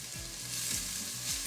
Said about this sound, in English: Now we have to stir it.